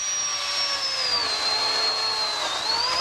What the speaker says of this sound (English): Electric's kind of neat because it is a lot quieter than a 2-stroke chainsaw